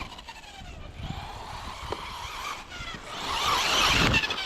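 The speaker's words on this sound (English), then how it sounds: "So I'll try that with my Nitro buggy. You know, just hitting the brake and see if I can get the rear end to just throw around." A Nitro RC buggy brakes hard and slides its rear end around in a moto parking area, a high engine whine that rises into a louder squealing skid near the end, fairly close, with no voices.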